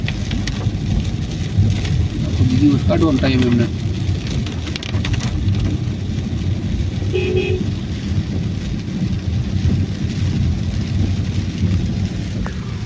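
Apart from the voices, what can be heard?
heavy monsoon rain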